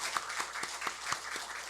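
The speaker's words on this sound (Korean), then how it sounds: "우리 박수로 환영했으면 좋겠습니다" A congregation at a Sunday afternoon church service applauds to welcome a missionary, a steady patter of many hands with soft, regular beats, moderately quiet and with no talking.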